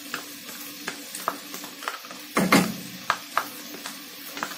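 Tomato sauce goes into a cooking pan of Indian-style pasta: one brief, fuller splash-and-sizzle stands out midway among faint frying and scattered light clicks of utensils.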